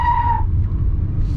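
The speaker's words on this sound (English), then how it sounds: "I'm going to mash the pedal" Hyundai Kona Electric launched hard with traction control off, a brief high whine over a heavy low road rumble that fades after half a second into steady broadband tire and wind noise.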